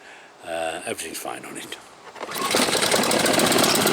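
A Honda HRX426 self-propelled rear-roller lawnmower engine roars loud and steady at close range, and someone talks briefly just before the engine sound swells.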